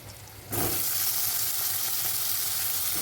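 Chopped eggplant hits a pan of lightly fried onions and bursts into a loud, bright sizzle after a brief quiet moment. The hissing then holds steady and close to the end.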